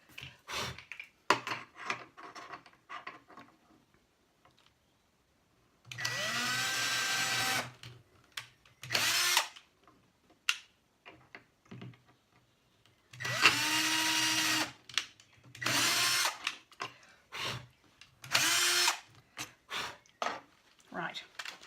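A power drill whirs in several bursts, two long runs and shorter ones, with knocks and handling noises in between, close by.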